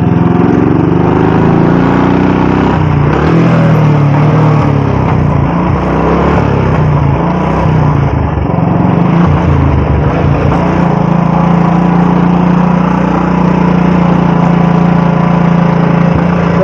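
Old Royal Enfield Bullet motorcycle engine running while being ridden, with a faulty gearbox, giving a loud, steady, close-up mechanical drone with rising and falling pitch and wind rumble throughout, with no talk.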